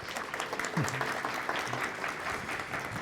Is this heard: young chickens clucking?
no